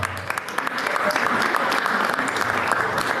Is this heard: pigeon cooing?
no